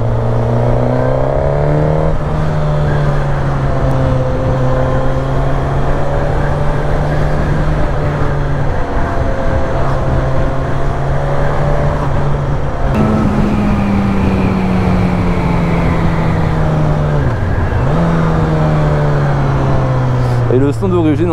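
A Suzuki GSX-S950 four-cylinder motorcycle, in its A2-restrictable form with stock exhaust, revs loud and close for about twenty seconds, its steady engine tone climbing and falling, with a brief dip near the end.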